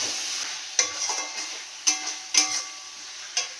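Spice paste for fish curry sautéing in a pan, a soft continuous sizzle punctuated by several sharp scraping stirs of a spoon against the pan, close and fairly quiet.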